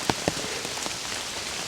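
Steady rain falls on a forest hike on a rainy day, a dense hiss with a few sharp nearby drips on surfaces early on and an even downpour continuing, with no talk.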